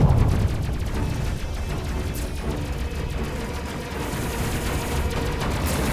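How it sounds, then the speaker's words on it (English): Laser fire in the space video game Space Crew, a thick, continuous barrage of blasts and booming impacts that runs without a break through the whole stretch. "Excellent laser shot."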